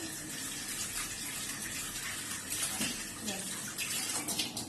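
Flattened rice (chira) rinsed once in a quick splash of plenty of water, a continuous close sloshing and trickling rush with slight surges toward the end.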